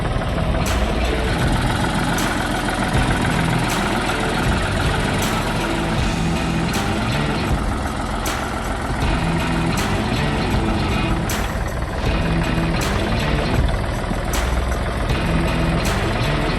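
A John Deere 80 diesel tractor engine runs steadily at a loud, even idle with a regular rhythmic chug, close by and with no talk.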